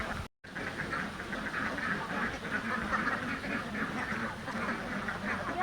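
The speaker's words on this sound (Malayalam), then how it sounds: "ഇതാണ് നമ്മുടെ താറാവ് കുഞ്ഞുങ്ങൾ." Ducklings with a mother duck outdoors, giving soft repeated peeping and quacking calls over a steady low rumble, fairly faint and with no talk.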